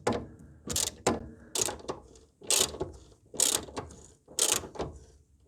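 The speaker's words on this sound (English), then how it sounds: "it seems like a normal ratchet will do the work" A hand ratchet loosens a sway bar bolt on a Mercedes W210 E220. Bursts of rapid metallic clicking repeat in a steady rhythm of roughly five or six strokes, close and crisp, with quiet gaps between.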